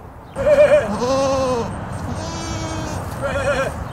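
Goats bleat loudly several times in a cemetery in Jersey City, long wavering cries close by, with pauses between calls and faint background noise.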